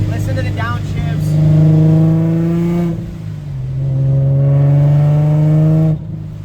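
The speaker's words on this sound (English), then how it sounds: "Just listen to the car, like, listen to the downshifts." Supercharged Nissan 350Z engine revving up and dropping back through downshifts, with two long rising rev pulls separated by a brief dip, loud and close under some background voice.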